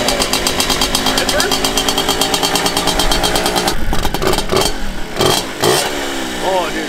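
A moped with an upgraded carburetor revs up close and loud, a rapid buzzing two-stroke drone that climbs and holds before falling into choppy blips and throttle bursts, with a voice briefly mixed in.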